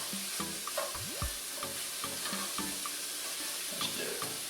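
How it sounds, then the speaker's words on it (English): Thinly sliced sweet onion cooks down in a hot pan, giving a steady close sizzle with scattered stirring scrapes and a few soft knocks, no voices. "I've got a big, huge, giant onion, sweet onion that I'm cooking down"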